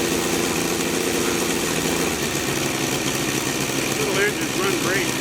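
A Saito FG 60cc four-stroke model engine idles with a steady, loud, close-up rattling putter, holding an even rhythm throughout, while a brief muffled voice rises near the end.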